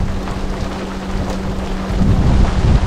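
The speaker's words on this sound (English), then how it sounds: "Well, we got a little light rain shower coming through." A light rain shower near inshore water at St. Augustine, with a steady loud hiss of rain and a low rumble of thunder that swells toward the end.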